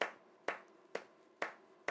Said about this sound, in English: So when we clap